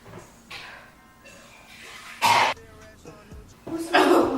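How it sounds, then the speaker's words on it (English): Several harsh, bursty coughs from one person come in uneven bursts close to the microphone, mixed with brief talking. "Coughing."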